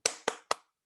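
A group of students in a classroom doing a rhythmic class clap; three sharp, crisp claps in quick succession, evenly spaced and fairly close, then silence.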